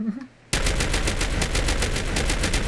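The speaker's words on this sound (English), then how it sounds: "That's a modded auto shotgun though." Modded automatic shotgun firing in Fallout 4, with a loud, rapid, continuous burst of blasts that starts abruptly after a brief quiet moment and keeps a steady rhythm to the end.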